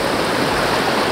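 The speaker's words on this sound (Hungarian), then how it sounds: "itt annyira hangos volt maga a pataknak így a zúgása" A mountain stream rushes loudly and steadily nearby, a dense, unbroken roar of water filling the whole short stretch with no other sounds.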